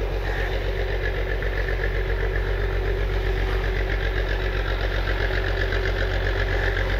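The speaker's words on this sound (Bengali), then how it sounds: "দেখুন ট্রলার চলছে, দেখুন ট্রলার আসছে" A fishing trawler's engine chugs steadily on a river near an estuary, a continuous low mechanical throb with a regular knocking pulse, fairly close and unbroken for the whole stretch, with no voices.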